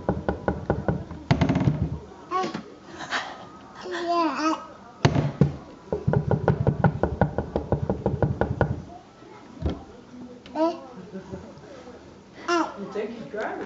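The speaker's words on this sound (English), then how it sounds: "Knock, knock." Knocking on a coffee table with a child inside: bursts of rapid knocks and taps recur across the stretch, mixed with a small child's babbling and adults talking.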